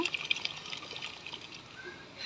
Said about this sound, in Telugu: ఈ గిన్నెనైతే ఇలా కదపాలి కదిపినప్పుడు మనకి బియ్యము వాటరు రెండు అయితే పడుతూ ఉంటాయి